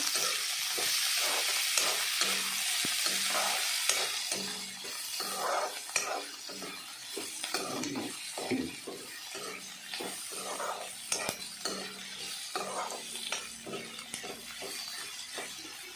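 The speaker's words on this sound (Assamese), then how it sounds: "আদা নহৰু কেঁচা গোন্ধ নোযোৱালৈকে ভাজি থাকিব লাগিব।" Ginger-garlic paste sizzles steadily in a hot pan while a spatula stirs and scrapes it repeatedly, close and continuous, with no voices; part of a home-cooked aloo dum.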